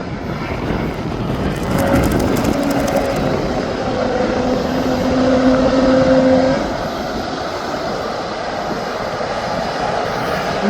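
A Boeing Dreamliner airliner arriving from Paphos at Birmingham Airport, its loud engine roar with a whining tone that builds, holds for a few seconds and then eases to a lower, steady rumble.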